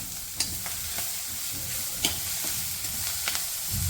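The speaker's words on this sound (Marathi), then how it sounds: "ही भाजी घालून घ्यायची आहे आणि हिला छान तेलात परतून घ्यायचं आहे." Chivai leafy greens stir-fried in oil in a pan on lowered heat, a steady close sizzle broken by sharp scraping clicks of a spatula tossing the chopped greens.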